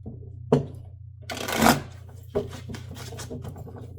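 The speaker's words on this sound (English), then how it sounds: "could be bad shuffling" Tarot cards being shuffled by hand, three brisk riffling bursts separated by short pauses, close and fairly quiet over a low steady hum.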